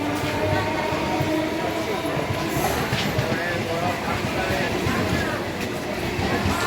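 A local train rolling into Kalyani Ghoshpara railway station, a loud continuous rumble of wheels on track with rattling carriages and faint squeals, heard from on board.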